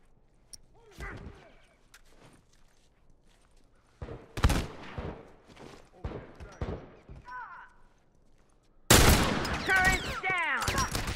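Gunfire from a machine gun turret in The Last of Us, sharp bursts of shots scattered through the middle, then a loud sustained stretch of firing at the end, with voices talking in between.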